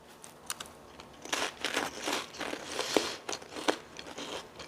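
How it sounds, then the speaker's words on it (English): Crisp, close-up crunching and biting as someone eats tuna salad on seasoned crackers, several sharp crunches in an uneven chewing rhythm with brief pauses, no talking. "if you do not like eating noises"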